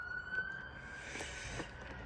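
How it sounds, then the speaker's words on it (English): A faint emergency vehicle siren wails from a distance along a main highway, one steady rising tone under soft background noise for a couple of seconds. "another siren for you guys to enjoy."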